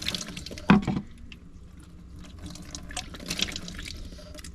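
Water dispensed from a small pump on a glass gallon jug in a van in the desert, a close splash and trickle with a sharp burst near the start followed by softer running and dripping, with no talking.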